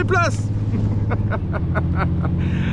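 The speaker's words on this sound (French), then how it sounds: "Je passe sur les moteurs." Motorboat engines drone loud and steady up close as the boat heads back to the port of Benalmádena, with excited shouts and voices over the engine noise.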